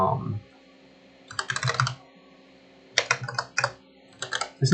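Bursts of fast keyboard typing while writing Python code on a computer, three clustered runs of close, crisp key clicks separated by short pauses.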